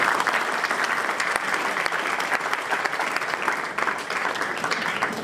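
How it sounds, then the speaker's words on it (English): At the inauguration of a Make-A-Thon 2019 event, the audience applauds the dignitaries with dense, steady clapping from a sizeable crowd, loud and continuous throughout without a pause. "please join me once again to give a big round of applause to all the dignitaries on the list"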